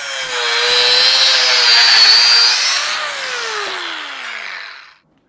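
A power saw cuts threaded metal tubes into short 2.5-inch segments, a loud whining, rasping cut that holds for several seconds, then fades as the blade spins down and stops.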